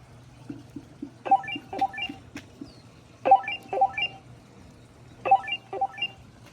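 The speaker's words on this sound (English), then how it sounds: "So this is what the alarm looks like." An electronic alarm on a Segway Max G3 electric scooter chirps in repeated bursts of quick rising beeps, three groups spaced about two seconds apart over a low steady hum.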